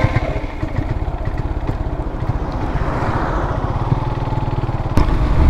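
A black motorcycle being ridden on a road, its engine giving a close, steady pulsing putter with a brief sharp knock near the end.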